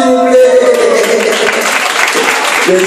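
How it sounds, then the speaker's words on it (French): Audience applause at a Miss Prestige Réunion beauty pageant, a loud, steady wash of clapping filling the room, with a voice and music tones briefly over the start and end. "On peut l'applaudir s'il vous plaît."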